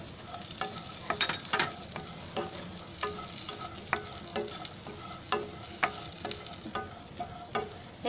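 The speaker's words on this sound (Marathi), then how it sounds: "हे कांदा भाजेपर्यंत हलवतच राहायचं आहे" Onion being stirred and dry-roasted without oil in a pan, with repeated sharp scrapes and taps of a spatula over a soft, low sizzle, close and without speech.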